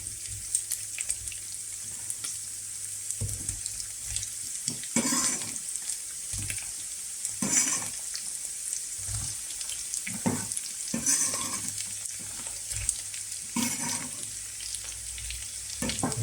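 Potatoes tipped into a generous amount of hot oil for a homemade Spanish tortilla, giving a steady close sizzle and bubbling fry with occasional clinks and stirring noises, and no one speaking.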